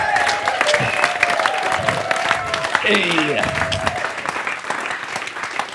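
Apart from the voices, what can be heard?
audience applause for band members at live show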